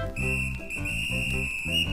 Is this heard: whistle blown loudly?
yes